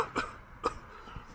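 A man in a store gives two short, faint, deliberate coughs about half a second apart, with a softer throat sound afterward against quiet background noise.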